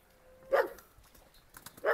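Dogs squabble with a couple of short, sharp barks and yips, close and fairly loud, separated by a brief quiet gap.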